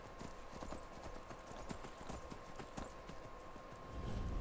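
Rhythmic clip-clop of horse hooves trotting at a steady pace in the game Skyrim, close and clear, over a low ambient background with no talk.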